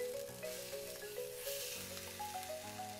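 Fish meat and mushroom frying in a survival video game, giving a steady sizzle with a faint game music tone running beneath it.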